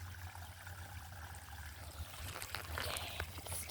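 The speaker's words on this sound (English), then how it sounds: "Yay, we have a waterfall!" Small waterfall on a nature ride, a faint continuous trickling and splashing rush of water, steady and moderately distant, with a low hum underneath.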